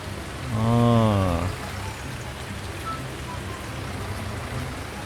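Rain pouring over a work site in Farming Simulator 19, a steady hiss of falling drops throughout, briefly overlapped near the start by a short tonal, voice-like sound before the rain continues alone.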